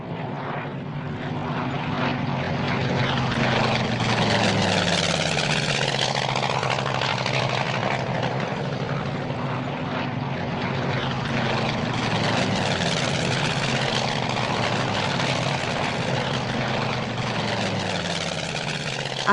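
Propeller airplanes drone steadily overhead for the whole stretch, a loud continuous engine roar with slowly shifting pitch as they pass.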